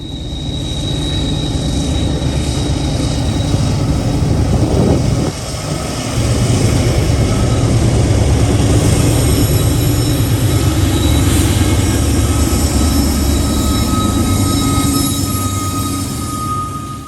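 Eastbound autorack freight train led by a freshly rebuilt GE locomotive rolls past loudly and continuously, with a broad rumbling roar and steady wheel noise that never lets up, no voices.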